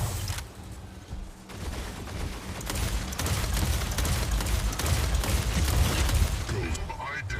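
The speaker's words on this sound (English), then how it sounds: "Next is the dual nade launcher 12 combo" Dual grenade launcher fire in the Mech Arena video game, a dense, continuous barrage of rapid booming shots from the Brickhouse mech, loud and sustained, with explosions and game effects layered together.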